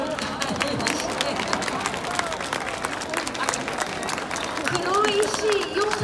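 Audience at an outdoor festival stage for a Kuroishi Yosare dance performance, with sustained dense clapping and crowd noise throughout and voices talking over the applause.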